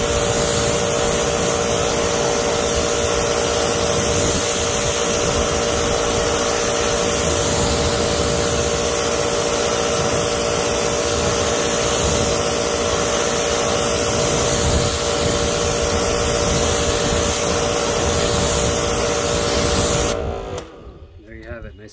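Water from a hose or pressure sprayer rinses a car wheel in a steady, loud, close hiss that runs on without pause and cuts off abruptly near the end.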